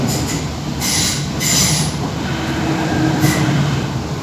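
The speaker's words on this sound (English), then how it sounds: "It's screeching of the rails." A DART commuter train screeches loudly as its wheels grind against the rails inside a tunnel on the Bray to Greystones line, with repeated bursts of high-pitched squeal over a steady rumble.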